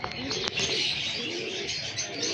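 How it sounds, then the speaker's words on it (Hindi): A Heera Lal breed performer pigeon coos softly at close range, with short chirpy notes and a brief wing flutter partway through, in a quiet space with no talk. "परफॉर्मर कबूतर है ये।"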